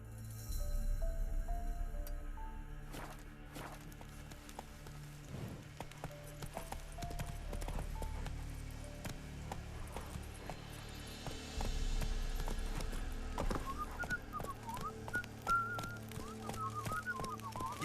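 Horse hooves galloping in The Witcher 3, a quiet rhythmic clip-clop running steadily through the whole stretch beneath game music tones, with no talk.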